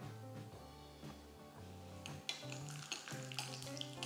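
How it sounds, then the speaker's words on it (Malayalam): Nuts frying in a tablespoon of hot ghee give a steady, soft sizzle close by with light stirring clinks, no voices. "ചൂടായ നെയ്യിലേക്ക് 1 ടേബിൾ സ്പൂൺ നട്ട്സ്."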